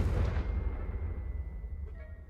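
A Confringo blasting spell from Hogwarts Legacy detonates in one heavy, booming burst that rolls off into a long low rumble.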